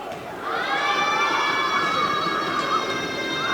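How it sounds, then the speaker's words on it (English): A crowd at a girls' high school basketball game in a gym makes a sustained, loud roar of cheering and shouting, with a long held tonal call riding above the din. "the crowd making some noise"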